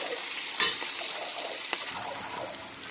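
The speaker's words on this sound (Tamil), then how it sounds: "இதையும் நல்லா வதக்கிக்கணும்." Ginger and onions sauté in a pan for a chana dal mint chutney, a steady close sizzle with a sharp clink of a utensil near the start and soft stirring scrapes after it. No one speaks.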